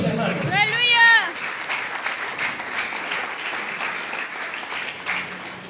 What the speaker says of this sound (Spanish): dale fuerte palmas a Dios, hermanos